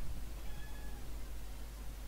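A pet cat meows faintly, a short thin call rising over steady low background hum and noise.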